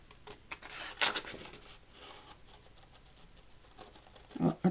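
Quiet snipping and papery rustling of scissors cutting out journaling cards from card stock, with soft scraping strokes and a couple of louder snips near the end.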